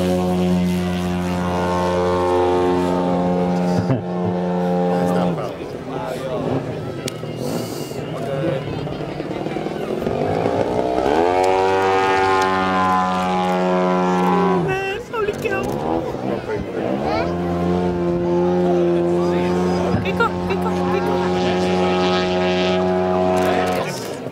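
A model airplane engine drones steadily through an airshow display, its pitch rising and falling as the plane passes and turns, loud and continuous throughout.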